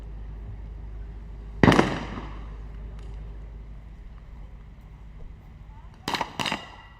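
A sniper rifle shot at a target during a SWAT challenge competition, one sharp distant crack followed by two more quick reports near the end, set against steady low wind and outdoor rumble.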